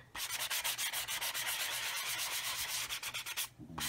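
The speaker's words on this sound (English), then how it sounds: "This is just a very fine little soft sanding sponge." A very fine, soft sanding sponge rubs lightly over painted model masking to lift paint from an insignia edge, making rapid, steady back-and-forth scratchy strokes close up, with no talking.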